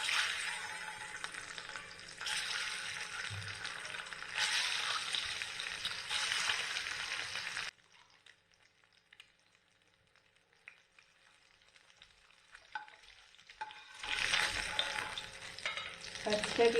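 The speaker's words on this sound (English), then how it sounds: "The oil is ready, so let's start frying the eggs" Eggs frying in hot oil, a bright continuous sizzle with stirring that drops away to near silence midway, then returns loudly toward the end.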